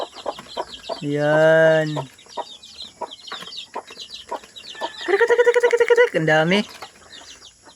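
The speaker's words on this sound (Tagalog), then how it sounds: "Saktong-sakto dumami na yung mga alaga nating manok." Chickens and chicks on a backyard farm give a loud, close rooster-like call and a run of rhythmic clucks, with higher chick peeping throughout and a person talking between the calls.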